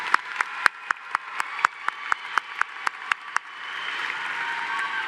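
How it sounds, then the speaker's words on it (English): At a 2025 Lubbock High School graduation ceremony, a dozen evenly spaced sharp claps ring out, then give way to a softer, continuous wash of crowd applause, fairly faint and without talk. "Please join me in giving these students a well-deserved round of applause."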